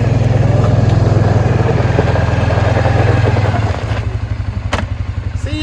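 A small four-wheeler ATV engine runs loud and close with a rough, chugging idle, then drops to a lower rumble, with a few clinks near the end.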